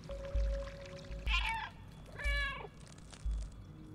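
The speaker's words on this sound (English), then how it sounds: "Meowing creates electricity." A cat meows in the video game Stray, two distinct mews in quick succession over a low background hum, with soft thumps and a faint steady tone between them.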